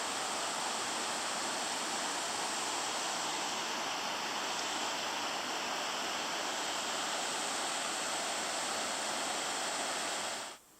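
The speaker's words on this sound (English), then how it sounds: "I was also impressed by this waterway. I think this is the Shikoku River." River water rushes steadily along a waterway in Shikoku, a dense, continuous broadband roar with no voices, holding even for about ten seconds before cutting off abruptly.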